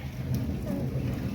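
Unseasonal rain falling over a village farm during a storm, a faint, steady hiss of drops with a low background rumble, brief and with no voices.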